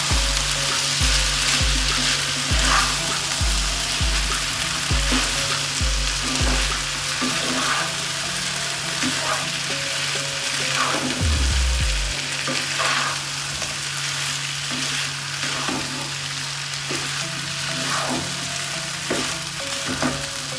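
Chicken biryani ingredients with barley fry in a pan while being stirred, a loud continuous sizzle broken by repeated scraping strokes and low thumps, close up with no voices.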